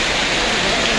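Sudden heavy rain mixed with hail pours onto a road in Kurseong, Darjeeling, a dense, loud, unbroken hiss of water and pelting close by.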